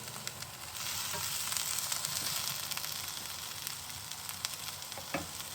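Onions fry in a pan for Beijing beef, a soft steady sizzle that rises after a moment and carries on with light crackles and a couple of utensil taps near the end.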